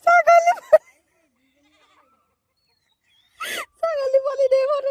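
A young goat kid bleats close up: a wavering, nasal cry at the start, silence, a short noisy burst, then a longer quavering bleat running to the end.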